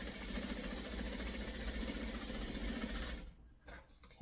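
A sewing machine stitches a tiny house quilt block from pre-cut fabric, running with a steady fast mechanical whir and rattle close by for about three seconds before stopping, followed by a few faint handling clicks.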